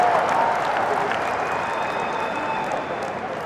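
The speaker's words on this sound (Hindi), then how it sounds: "ठोको ठोको ताली ठोको" An audience at a Congress party convention applauds during a political speech, a dense, sustained clapping from a large crowd that fades slightly toward the end.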